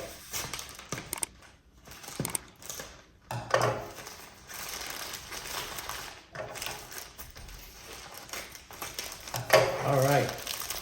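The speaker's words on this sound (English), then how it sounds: "We're gonna cut this box open." A cardboard box for a cheap gaming mouse pad is cut open, giving intermittent scraping, slicing and rustling bursts with pauses between them, close and fairly quiet, with no talk.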